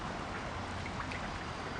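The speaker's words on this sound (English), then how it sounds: "Still raining" Rain falls steadily on a boat moored on the River Severn, a soft, even patter and hiss heard at close range without talk.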